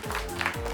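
Applause on a studio game show as husbands win gifts for their wives: a short burst of clapping with bright, swooping tonal effects layered over it.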